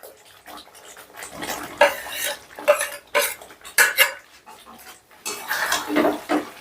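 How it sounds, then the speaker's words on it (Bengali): Fried potatoes and pointed gourd tumbling into masala in a pan, then metal clatter and scraping as they are stirred in, in loud uneven bursts over a low sizzle. "মশলাটা থেকে বেশ ভালো মতো তেল ছেড়ে দিলে এবারে দিয়ে দিচ্ছি ভেজে রাখা আলু আর পটল।"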